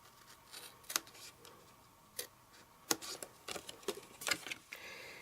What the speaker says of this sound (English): Just cut off the bits to free it, and you cut down this panel.